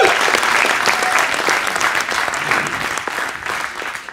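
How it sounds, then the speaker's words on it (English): Loud, steady applause from a large crowd at the Techstars Tel Aviv Demo Day 2021, continuous clapping filling the space from start to finish. "Let's applause for the Techstars team, our associates, Daniel Gelman, Roy Sivan,"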